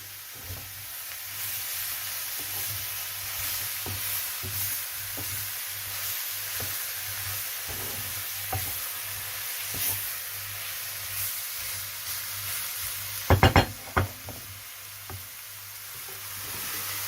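Button mushrooms frying in a pan for a beef mince chilli, a steady soft sizzle with scattered knife taps as they are chopped in the pan, then a brief cluster of louder knocks near the end.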